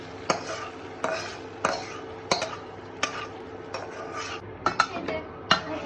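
Dried chillies and tempering spices frying with onion in a kadai, heard mostly as repeated metal spoon knocks and scrapes against the pan over a faint, low sizzle, with no voices.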